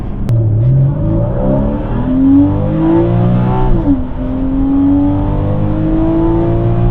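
A Porsche Cayman 981 pulls hard from inside the cabin, its engine rising in pitch through the revs, dropping briefly at a gear change, then climbing again, loud and continuous.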